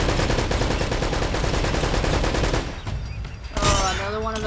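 Gunfire in Uncharted: Drake's Fortune, loud rapid shots in a dense volley that fades out, then a sharp burst with ringing tail amid game ambience.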